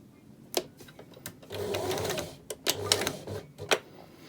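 A sewing machine stitches a French seam in fabric, running in short bursts broken by pauses and clicks, close and fairly quiet with no talking.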